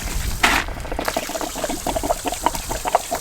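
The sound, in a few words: water draining from RV water heater valve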